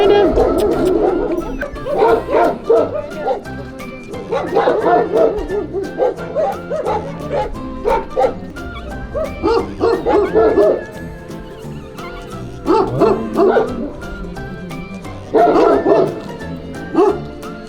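Several dogs bark and yip repeatedly at a dog shelter in bursts, loud and close, with some whimpering and a person's voice heard between the barks.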